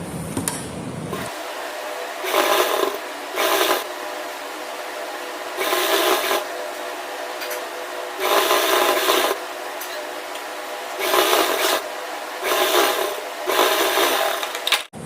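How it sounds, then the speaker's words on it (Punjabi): Repeated short runs of a sewing machine stitching lace onto a kameez hem, each burst a rough buzzing rattle lasting about a second, separated by quiet pauses, close and fairly loud. "ਤੇ ਹੁਣ ਆਪਾਂ ਇੱਥੇ ਸਲਾਈ ਲਾ ਦਾਂਗੇ"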